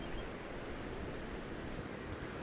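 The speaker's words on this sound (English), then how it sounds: "Every now and again you get a set of waves coming in and crashing on the cliffs below the bird colony" Surf breaking against sea cliffs below a seabird colony at Brixham, a steady broadband wash of waves with no distinct individual crashes, wind-like and continuous throughout.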